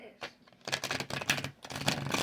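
Tarot cards being shuffled one-handed give quick, close papery riffles and soft flicks in uneven bursts, with a brief pause partway through.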